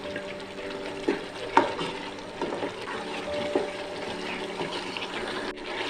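Masala spices and tomatoes fry in a pan for a tenda chicken curry, a steady soft sizzle with light stirring scrapes, close and moderate, with no voices.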